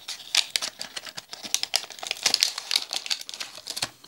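Cardboard and plastic wrapping crinkle and rustle in quick, close bursts as the box of a pulse monitor is opened by hand.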